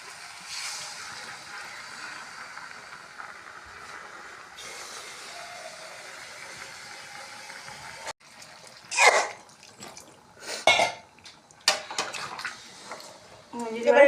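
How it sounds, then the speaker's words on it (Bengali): Water is added to a pan of sautéed mutton liver curry, a North Bengal dish. Soft steady frying gives way to several splashy pouring bursts and bubbling. "এবার আমি এর মধ্যে জল দিয়ে দেব।"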